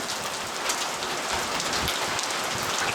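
Hail falls in a storm at Hudson Bend, Texas, in 2006, a dense, steady patter of stones striking surfaces close by, constant and loud with no talk.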